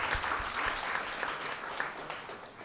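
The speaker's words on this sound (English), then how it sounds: "let's clap it up for the director of A&R at Def Jam right now" Audience applause greets the director of A&R at Def Jam during a music business talk, a soft, steady patter of clapping with a few sharper individual claps standing out.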